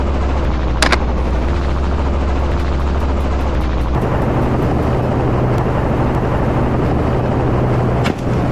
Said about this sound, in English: 2 sharp cracks echoed across the field. 2 shots, 2 takedowns.